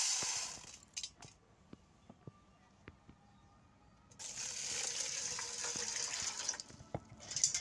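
Running water washing raw green bananas in a kitchen, a faint trickle with small clinks and splashes, then a louder steady gush of water from about four seconds onward, with no voice over it.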